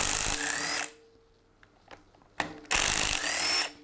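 A Ryobi power tool zips loose a bolt while gears are being removed in a garage: a loud whirring burst, a pause with small clicks, then a second long whirring run, with no talking.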